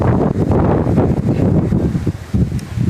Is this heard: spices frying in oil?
no